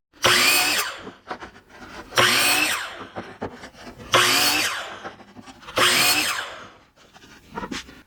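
Wooden fence pickets are cut with a power saw in four separate loud, whining passes, each about a second long, with quieter clattering and handling of the boards between them.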